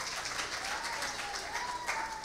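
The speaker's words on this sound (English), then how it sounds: "Give them a round of applause." Applause from a church congregation at a baptism service, a steady patter of clapping with some voices and a cheer mixed in throughout.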